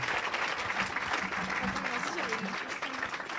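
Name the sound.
audience applauding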